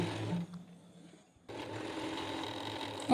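A sewing machine stitches down the folded lining hem of a cotton frock, running in a steady close whir, pausing briefly, then resuming loudly and continuously.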